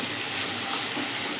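Red potatoes frying in hot oil in a pan, giving a dense, even sizzling hiss that holds steady without pause, close and fairly loud.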